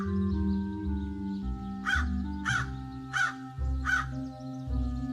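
A crow caws four times at an even pace, loud and close, over a steady sustained musical drone in a children's story.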